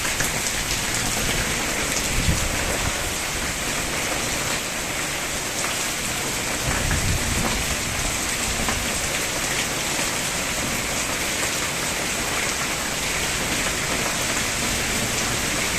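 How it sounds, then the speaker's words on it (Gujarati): Heavy, steady rain pours down amid strong wind, a dense continuous wash of drops close by with a faint low rumble of distant thunder, no voices. "છેલ્લી 10 મિનિટથી વરસાદ પડી રહ્યો છે."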